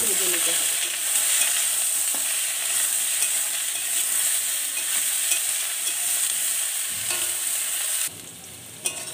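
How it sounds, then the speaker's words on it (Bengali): Vegetables for a pumpkin-leaf chachchari sizzle in hot oil as they are stirred in a pan, a steady close frying hiss with spatula scrapes, ending with a quieter pause and a final clatter. "সবজিগুলোকে নেড়ে চেড়ে একটু ভালো করে ভেজে নিতে হবে।"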